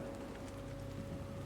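Steady rain falling in a video game scene, a continuous, even hiss and patter with a low hum beneath and no talking.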